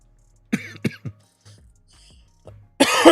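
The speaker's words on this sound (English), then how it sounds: "Oh, bloody cough." A person coughs a few times in short bursts, then clears the throat, close and fairly loud, with quiet pauses between, while a Farming Simulator 25 game runs in the background.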